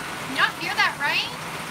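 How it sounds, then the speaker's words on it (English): Rain drums on a tin roof in a steady, soft hiss, with a few brief higher tonal sounds rising over it. "You gotta love the rain on the tin roof, though, right?"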